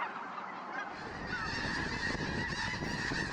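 A flock of geese honks steadily and loudly, overlapping calls filling the air close by with no talk, wintering snow geese in Japan.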